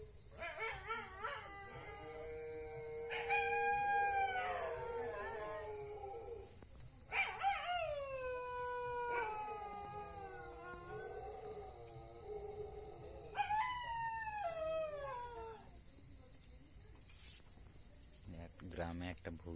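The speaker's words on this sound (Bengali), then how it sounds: "ওই যে কুকুরের ডাক।" Several dogs howl in long, wavering, drawn-out cries at night in a village, rising and falling in repeated bouts over a steady chorus of crickets, fairly distant and quiet.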